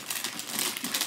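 Plastic wrapping on a gummy sushi candy package crinkles continuously as it is pulled open, close and moderately loud with no talking.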